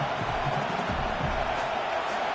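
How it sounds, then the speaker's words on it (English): At an LSU football game, the home stadium crowd roars in a steady, loud wash of cheering that fills the whole moment. "how nice is it to have the home crowd going absolutely bananas?"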